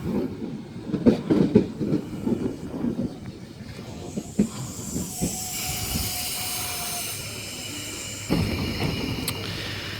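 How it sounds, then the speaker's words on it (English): Sydney S-set train S114 coupled with another set on a Liverpool service at a station platform: rumbling wheels and clattering, then a long brake hiss and rising electric motor whine as it moves off. "S114 and friend is now departing platform number 2, Liverpool service"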